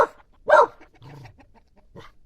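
Kangal puppies at feeding time make a few short whines and yelps close by, with quiet gaps between them and no talking.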